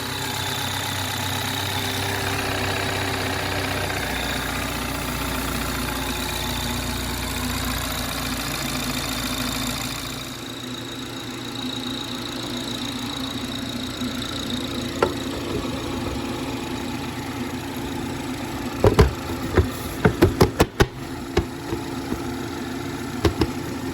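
A 2019 BMW 530i's B46 four-cylinder engine runs after an oil filter housing and water pump replacement, a steady, even idle hum throughout, with a few sharp clicks and knocks near the end.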